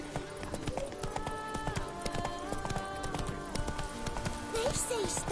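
Horse hooves clip-clop in a steady galloping rhythm in the Witcher 3 video game, close and continuous alongside music and other game sounds, with a faint whinny near the end.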